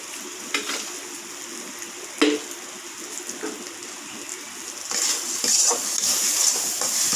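A spiced mixture for puffed fried bread fries and is stirred in a pan with salt: soft continuous sizzling with scattered scrapes and knocks of a utensil, growing busier and louder near the end, no talk.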